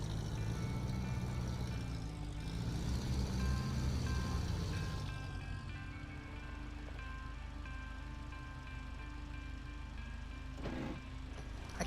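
Heavy truck engine in SnowRunner droning in low gear, a loud strained rumble that shifts pitch and eases off partway, with a brief clunk near the end.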